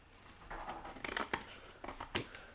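Scissors snip through card while cutting out a piece for a handmade Christmas card, a series of crisp close cuts in short irregular bursts, fairly quiet and with no talking.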